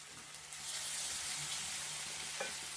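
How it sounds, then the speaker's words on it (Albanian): Beef meatballs with a spoonful of tomato paste fry lightly in a pan, a close, even sizzle that swells after a brief quieter start, with occasional stirring scrapes and no talking. "I përziejmë dhe japim një skuqje të lehtë."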